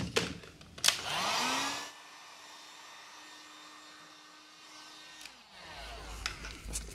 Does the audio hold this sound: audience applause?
no